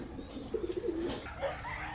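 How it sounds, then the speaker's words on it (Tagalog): Racing pigeons, including an Ice Pigeon, coo softly on a farm, with a short run of low, throaty coo notes and faint bird calls over quiet background noise. "ito ang first ever Ice Pigeon ko."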